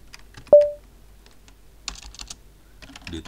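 Typing on a computer keyboard, heard as a few scattered key clicks and a short, quick run of taps, with a single loud tonal beep near the start.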